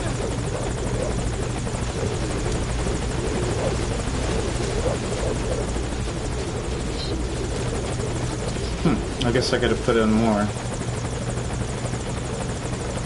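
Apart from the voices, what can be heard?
helicopter in video game Metal Gear Solid V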